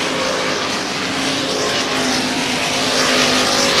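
Late model stock cars roaring past on an oval track, a loud, sustained, broad engine drone with steady mechanical tone throughout, close and unbroken, no voices.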